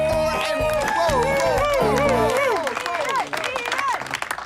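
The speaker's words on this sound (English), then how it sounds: "I think we should have a massive round of applause for Ian, who is the best sport in..." Studio audience applause on a home makeover show, clapping and cheers rising under a bright musical sting that fades as the clapping takes over, loud and close.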